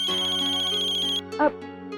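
A mobile phone ringtone plays loudly and steadily as a bright repeating electronic melody, then cuts off, followed by a brief clatter and faint room sound, in a Hindi TV drama domestic scene.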